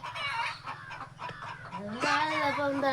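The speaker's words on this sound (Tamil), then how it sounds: "அடையில் விழுவில் இந்த கோழி ஓடி போய் சேர்ந்துச்சு" Hen gone broody in a nest set up in an apple tray, clucking in repeated low calls at close range, with a louder run of clucks toward the end.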